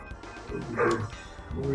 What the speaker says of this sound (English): The loudest dog in the world.